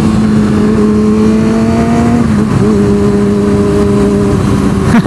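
A four-cylinder big bike motorcycle engine revs steadily at close range, loud and sustained with a smooth tonal drone that dips and rises again midway through, with no talking.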